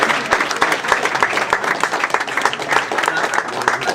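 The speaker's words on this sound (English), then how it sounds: "Let's give yourselves a round of applause because this is important." Crowd at a homeless people's rally in Washington, DC applauds themselves, a steady burst of many hands clapping with scattered louder claps and some cheering voices mixed in.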